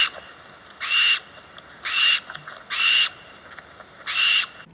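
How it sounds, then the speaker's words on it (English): Barn owl screaming, four harsh hissing screeches spaced about a second apart, each roughly half a second long, loud and close over quiet background. "And then the barn owl, which makes kind of the blood-curdling scream."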